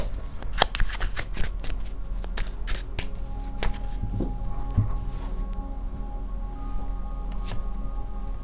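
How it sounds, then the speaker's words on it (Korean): Tarot cards shuffled and drawn, with crisp riffling flicks and sharp card snaps in quick irregular bursts, close and fairly loud, with no talk. "카드를 좀 더 뽑아볼게요."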